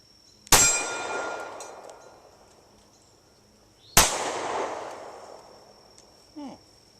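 Two sharp, loud pistol shots from a Taurus G3X, a few seconds apart, each cracking and then ringing out in a long decaying echo at an outdoor range, with a brief faint voice near the end.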